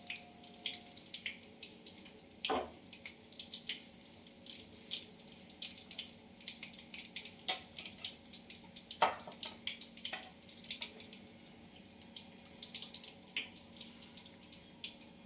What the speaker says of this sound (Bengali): প্রনগুলো আমি এক এক করে তেলের মধ্যে দিয়ে দিচ্ছি ব্যাটারে চুবিয়ে।